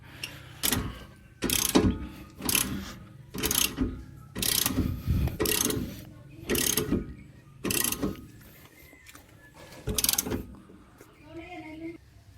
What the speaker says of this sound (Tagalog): Ito torque nyo na to guys sa 120 foot-pounds.